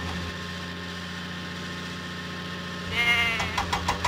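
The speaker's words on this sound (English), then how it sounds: "Thomas must deliver the goats to Farmer McCall's farm." Goats bleat in a Thomas and Friends delivery video game, a few short cartoonish calls breaking in near the end over a steady engine-like hum and game background.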